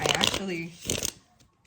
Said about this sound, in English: I'm going to give it a good shuffle.